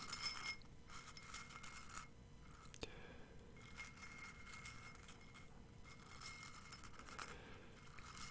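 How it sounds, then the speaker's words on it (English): Broken glass marbles handled up close, giving soft scattered clinks and scrapes at a low level, with a sharper click near the start and no voices. "While I try not to cut myself on these broken marbles"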